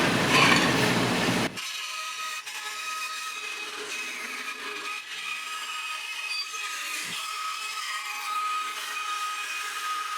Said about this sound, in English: You haven't seen me using the bandsaw